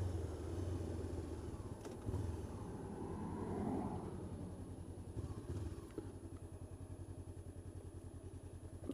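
A Honda CB500X motorcycle idles and putters at low speed through a slow U-turn, its engine a steady, fairly quiet rumble with slight rises in revs.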